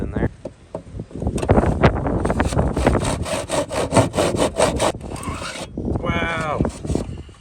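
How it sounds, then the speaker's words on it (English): A hand saw rides in a miter box, cutting miter cuts in wood with quick, close back-and-forth strokes. A voice talks before and after the sawing. "It's a miter box with the saw. So the saw just slides in there."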